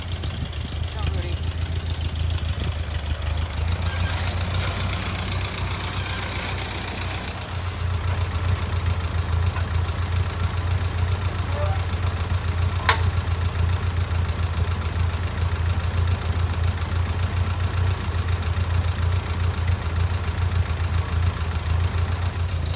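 A 1952 Ford 8N tractor engine runs at a steady low idle-like drone with a back blade shaping trails, continuous and fairly close, with a brief sharp click partway through.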